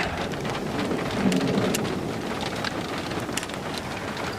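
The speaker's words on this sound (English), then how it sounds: "I got some moderate rain has started" Moderate rain pours steadily during an evening supercell storm chase in New Mexico, a dense close hiss of drops on surfaces with a few sharper splats, continuous and fairly loud with no talk.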